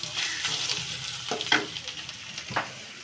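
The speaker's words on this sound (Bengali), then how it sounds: "চিংড়ি শুটকিটা আগে এখানে সুন্দর করে একটু ভেজে নেব পেঁয়াজের সঙ্গে" Dried shrimp and onion fry in a pan with a constant hiss of sizzling oil, broken by a few sharp spatula scrapes and stirring knocks.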